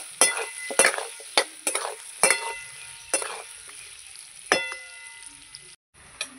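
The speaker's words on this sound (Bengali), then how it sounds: "আলুর সঙ্গে পেঁয়াজটা আমি ভেজে নেব।" Potatoes and onion frying in a pan, with a soft sizzle under sharp metallic clinks and scrapes as a spatula stirs, several distinct knocks, close by, no talking.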